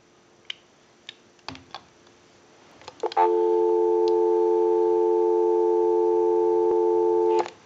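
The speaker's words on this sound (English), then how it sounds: "Go ahead and give you some dial tone." A Western Electric 500 rotary dial telephone gives a steady, loud dial tone for about four seconds, preceded by several sharp handling clicks and taps as the line is picked up.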